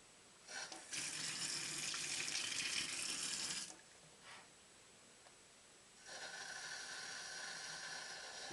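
Tap water runs into a Nutribullet blender cup, a steady close rush that stops briefly, trickles, then resumes filling for several seconds.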